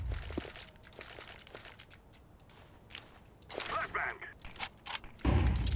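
A flashbang grenade is thrown in Counter-Strike 2 on the Inferno map: scattered clicks and crinkling game noises build toward a loud, sharp, broadband burst near the end, with some voice in the background.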